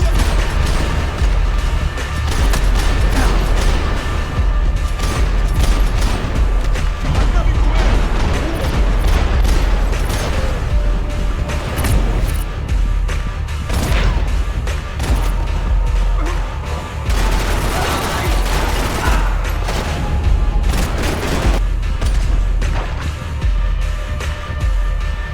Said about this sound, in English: we make our way to heavy fire from every form of law enforcement this city has